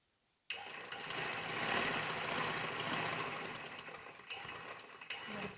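A sewing machine stitches cloth for a shirt in one continuous run of about five seconds, a close steady whirring with slight dips in speed near the end.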